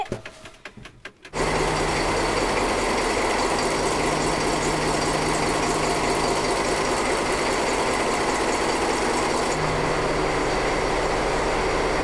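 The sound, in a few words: engine idling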